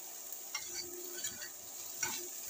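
Eggplant frying with salt, turmeric and green chillies, stirred in a pan: a faint steady sizzle with a few soft scraping strokes of the spatula, quiet and close, no voices.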